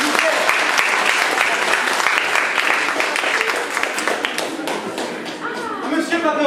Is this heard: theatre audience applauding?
yes